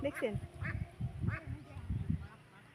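Ducks quack nearby outdoors in a series of short nasal calls, several in quick succession, mixed with faint human voices in the background.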